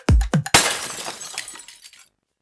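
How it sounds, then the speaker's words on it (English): Lamp crash for a theatre scene: a couple of thuds followed by a loud shattering burst of breaking glass, with fragments tinkling and scattering before dying away. "I want the lamp crash to stop what's playing."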